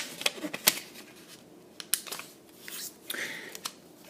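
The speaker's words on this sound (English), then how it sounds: "Fold the 2 sides to that middle pinch, folding to the center." Origami paper folded by hand into a chuckwagon model, making crisp, scattered crinkles and sharp creasing snaps, close up and fairly quiet, with no talking.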